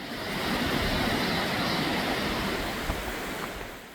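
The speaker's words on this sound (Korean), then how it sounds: "저 아래쪽으로 계곡 물소리가 크게 들리네요." A valley stream in Seorak flows below a wooden deck trail, a steady broadband rush of water that stays constant and fairly close, with no voices.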